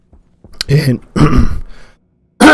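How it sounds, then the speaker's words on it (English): A person clears their throat a couple of times, rough and guttural, close up. "let me clear my throat"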